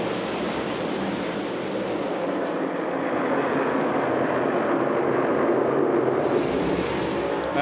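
A field of NASCAR Cup Series race cars roaring together at Martinsville Speedway, a dense, loud, sustained engine wash that swells as the pack thunders past, with no talk over it.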